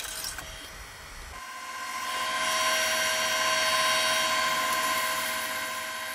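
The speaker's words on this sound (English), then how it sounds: "now using a pointing tool to actually cut the inside of the recess" A wood lathe spins a trinket box while a pointing tool cuts the inside of a recess, giving a steady high-pitched whine and cutting hiss that swells and stays loud and continuous.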